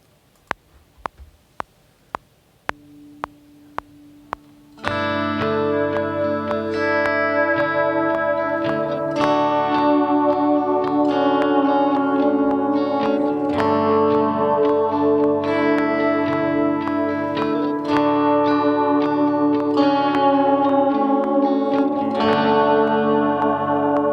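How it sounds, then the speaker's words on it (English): A few sharp clicks, then a sustained electric guitar part drenched in chorus, echo and distortion, ringing loud and full with layered chords. "I'm going to record this second guitar part over top of the one that we just recorded"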